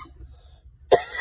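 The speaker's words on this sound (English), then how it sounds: "I'm coughing." A single sharp cough from a person outdoors in hot weather after a run-in with a honking driver, loud and close, after a stretch of low background rumble.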